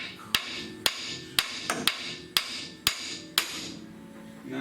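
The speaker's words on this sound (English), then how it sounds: "Couple whacks on the lower." Seven sharp hammer whacks ring out on a car's lower suspension joint, evenly spaced about half a second apart with one quick double strike, each a loud metallic crack followed by a brief ringing decay.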